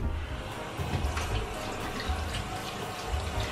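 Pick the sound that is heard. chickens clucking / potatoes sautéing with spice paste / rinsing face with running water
rinsing face with running water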